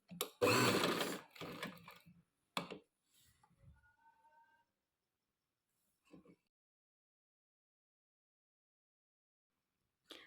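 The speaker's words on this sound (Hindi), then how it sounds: "अब ये नोक तक हमने सिलाई लगा ली है" A sewing machine stitches a lace strip along a garment neckline, sounding as one loud close burst of about two seconds, a brief second run, then faint clicks and near silence.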